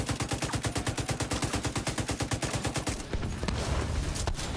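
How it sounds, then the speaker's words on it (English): Rapid automatic gunfire in the video game The Division 2, a fast even stream of close, loud shots for about three seconds, then scattered rougher impacts and noise. "I'm gonna shoot now."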